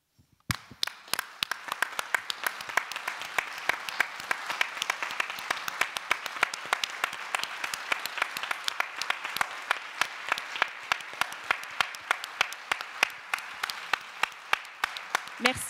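An audience applauds the activity leaders at a season presentation evening, a steady, dense round of clapping that starts abruptly and carries on for the whole stretch without fading.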